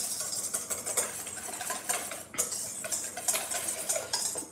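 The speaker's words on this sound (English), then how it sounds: "So now we take our dressing give it just a quick little stir here." Dressing for bison tartare getting a quick stir, with light metallic clinks and scrapes of a utensil against a bowl in an irregular close rhythm, fairly quiet and with no talking.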